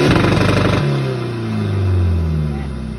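A car engine revs hard and then drops into a falling, droning tone as the throttle eases, loud and close, with a rough burbling note over a steady low rumble.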